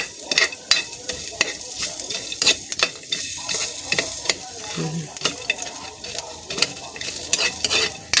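Adobo stirred and fried in a pan with little oil, a utensil scraping and clacking against the pan in quick repeated strokes over a steady sizzle, close and loud, with no talk.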